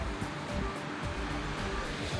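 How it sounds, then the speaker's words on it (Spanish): Storm waves crash hard against a rocky coastal stretch during a frontal system with swells and strong winds, a loud, continuous roaring surge that fills the whole short stretch with no voices. "que la ola golpea fuertemente."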